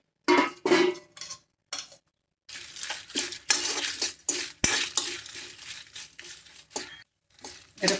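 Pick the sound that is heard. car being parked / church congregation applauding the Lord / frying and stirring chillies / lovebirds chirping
frying and stirring chillies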